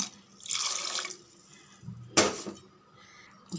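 Water splashes and runs into a pot in two short bursts, a close, steady pour with quiet gaps between.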